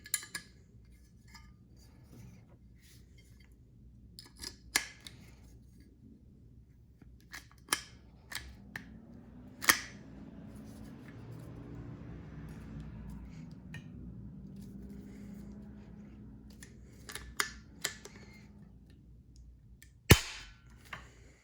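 An Arrow 360 hand rivet tool clicks and ratchets as it cranks a rivet, with a series of sharp snapping pops and a low grinding stretch in the middle, close and fairly quiet overall.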